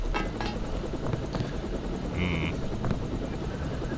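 A helicopter in Deus Ex drones steadily throughout, its rotor producing a continuous, rapid chopping pulse with a loud low rumble, joined by a brief higher electronic tone partway through.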